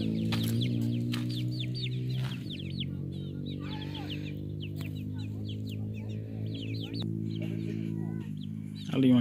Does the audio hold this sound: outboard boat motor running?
no